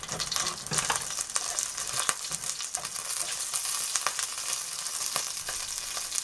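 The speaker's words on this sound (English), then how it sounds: "this one has pinch of asafoetida, which is hing, and cumin seed in it. Just you put it in, so it will do little bit splattering." Cumin seeds and asafoetida crackle and spit in hot oil for a spring onion curry, a dense close sizzle full of sharp popping splatters with no talking.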